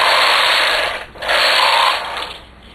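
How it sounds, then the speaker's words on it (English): A knitting machine carriage runs across the bed and back, a close, loud mechanical whirring rasp in two passes separated by a brief pause. "I'm going to knit across and back and reach under and catch the sample"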